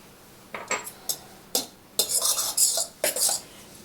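Egg being mixed with salt, pepper and garlic powder in a bowl, several quick bursts of utensil scraping and clinking against the bowl, close and fairly quiet with short pauses between strokes.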